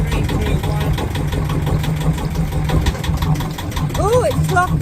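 A Yanmar sailboat engine with a sail drive running after its first start-up, a loud rhythmic idle with knocking pulses, while people talk over it and a brief whistle-like sound rises near the end.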